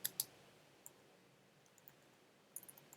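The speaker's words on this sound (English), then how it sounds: "And then I'm going to type a little message." A few sparse, faint clicks of a computer keyboard as a short message is typed, with two sharper taps at the start and a small cluster near the end, in a quiet room.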